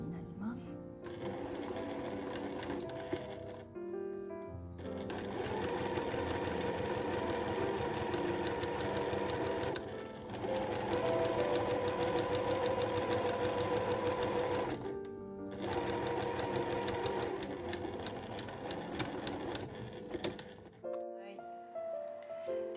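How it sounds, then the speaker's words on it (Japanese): A professional SL700EX sewing machine stitches a straight 5 mm triple-folded hem in gauze for a camisole dress. The motor hum runs in long steady bursts of several seconds, broken by brief pauses, over a faint tonal backdrop. "今回も職業用ミシン SL700EX を使っていきます"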